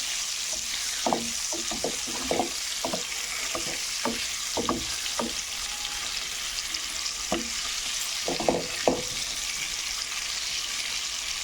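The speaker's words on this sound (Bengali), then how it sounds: "হালকা মতো করে লাল লাল করে ভাজা করে নেব" Whole boiled eggs, scored and seasoned with salt and turmeric, frying in hot oil in a pan for an egg curry, a steady close sizzle broken by repeated scraping and stirring strokes.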